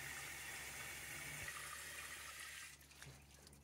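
A 1995 Eljer Savoy toilet tank refills with water, a steady hiss of rushing water that runs on, then thins and tapers off near the end, close and alone.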